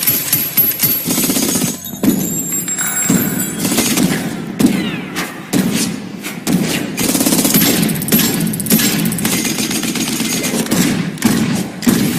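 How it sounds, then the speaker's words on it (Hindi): Sustained heavy gunfire in an action movie, dense rapid automatic bursts with loud thuds and brief pauses, continuing relentlessly throughout. "ये फायरिंग तकरीबन 3 मिनट तक चलती है"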